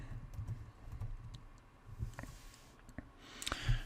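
Fingers typing a business username on a computer keyboard, a quick irregular run of close, light key clicks with short pauses, ending in a slightly louder burst of taps.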